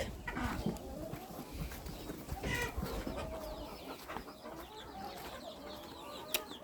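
Chickens and young chicks cluck and peep in a farmyard coop, huddled under a heat lamp, a busy overlapping chorus of clucks and chirps close by and moderately loud, with occasional sharper calls throughout.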